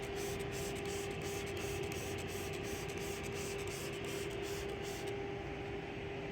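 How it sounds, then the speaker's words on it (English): Cleaning solution sprayed onto a cotton gauze air filter, a steady hissing spray with faint rhythmic pulses from the pump nozzle that runs continuously and close for several seconds, then stops. "you're just going to spray the cleaning solution onto the filter"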